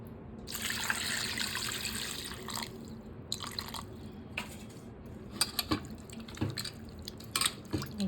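Water runs and splashes as mutton pieces are rinsed by hand in a vessel of water, a steady rush at first, then intermittent drips, trickles and small clatters close by.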